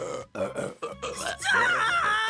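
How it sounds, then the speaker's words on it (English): Cartoon characters belch in a burping competition, a series of long, throaty, exaggerated burps following one another close up. "who's up for a burping competition?"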